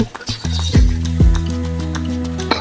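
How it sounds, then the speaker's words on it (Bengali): Washed rice and lentils drop into hot spiced oil, giving a loud sizzling burst with heavy thuds and scraping as they are poured and stirred, then settling into a steady frying hiss. "আমি ধুয়ে রাখা চাল ডাল দিয়ে দেব।"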